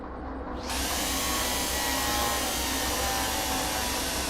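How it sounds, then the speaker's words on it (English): An electric hand drill bores two holes through a mount while training as a train driver, a loud steady motor whine starting abruptly after a brief quiet moment and running continuously without a break. "Get your electric hand drill. Okay, put that in hand. All right, drill out 2 holes through the mount."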